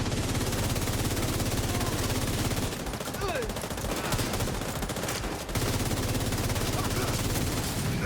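Sustained automatic gunfire in a video game, a loud rapid rattle that drops off briefly in the middle before resuming, with a voice talking intermittently underneath.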